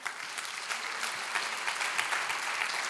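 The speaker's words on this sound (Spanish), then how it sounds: "Y si tú lo crees, dale un aplauso" A church congregation applauds, a dense, even patter of many hands clapping at a moderate distance for a few seconds, with no voices rising above it.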